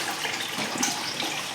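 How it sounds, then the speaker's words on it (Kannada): Water running steadily from a tap while containers are filled at home, a continuous close rush with no talk. "ನೀರು ತುಂಬಾಕ್ತಾರ ಅವ್ರು."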